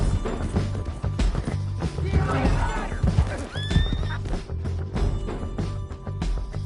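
A horse whinnies in the video game Red Dead Redemption 2, a loud rising neigh amid crashing, thumping action and hoof clatter, with voices heard nearby.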